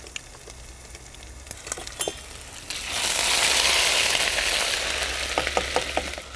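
Chilies and ginger hitting a hot pan for a potato curry: a few clinks and taps of a spoon, then a sudden loud surge of sizzling that holds steady, with more utensil clicks as it settles.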